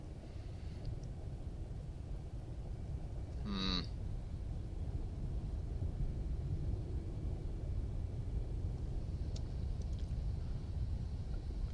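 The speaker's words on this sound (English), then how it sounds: "I also did not figure out how to turn off the engine." Steady low engine drone from a vessel in the video game Aqua Nox, running continuously and evenly throughout, with a brief higher tone partway through.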